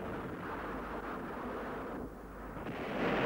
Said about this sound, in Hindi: झांसी की प्रसिद्ध तोप घन गरज ने अंग्रेजों की सेना पर गोले बरसाने शुरू